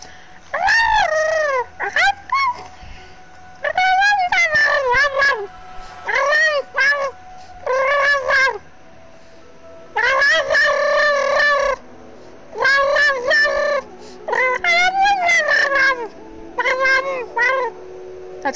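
A human voice imitates small creature noises modelled on cat chirps, producing a series of short, bright, rising chirps and trills in quick bursts separated by brief pauses, loud and close.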